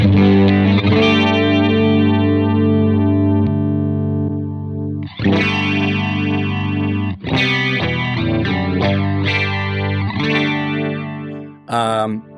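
Electric guitar with a shimmering chorus effect: a sustained chord ringing out, then several strummed and picked chords, with a short bright burst at the end.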